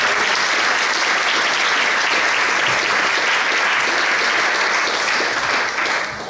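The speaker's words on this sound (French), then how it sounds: "Je vous propose d'applaudir M." An audience at a swearing-in ceremony of a municipal executive in Ecublens applauds, with dense, sustained clapping that stays loud and fades slightly at the very end.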